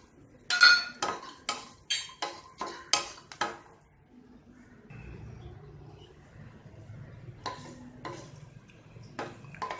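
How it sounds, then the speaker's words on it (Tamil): Garlic and curry leaves go into a hot pan while sesame-based idli podi is being made, heard as a rapid run of metal spoon clinks and scrapes, followed by a soft sizzle and a few more stirring clatters. "அடுத்து பூண்டு போட்டுக்கலாம், அதோட கறிவேப்பிலை"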